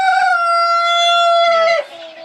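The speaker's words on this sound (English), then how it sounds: "We have all our baby chickens that are being grown out." Chickens in a homestead coop on a spring farm, giving a loud, sustained high-pitched call close to the microphone that breaks off into softer clucks, with no talking.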